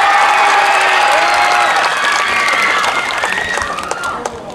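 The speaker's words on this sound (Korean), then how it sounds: "큰 박수를 부탁드립니다" A concert audience at a youth meditation festival breaks into warm applause for an arriving singer, dense clapping with a few cheers that gradually thins out over several seconds, close and loud.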